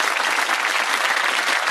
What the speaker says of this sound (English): That applause must be a welcome sound.